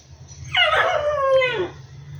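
A single golden retriever's high, wavering whine rises and slides downward over about a second, close and fairly loud, over a low steady hum.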